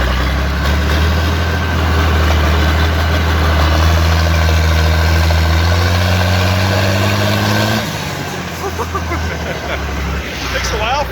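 A swapped-in International 756 tractor engine running loud and close with a deep diesel rumble and a rising turbo whine, then dropping in pitch and settling, with voices talking over it.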